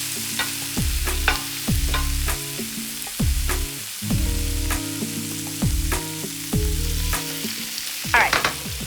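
Eggplant pieces seasoned with salt fry in olive oil in a pan, sizzling steadily while a utensil stirs and scrapes them in repeated strokes.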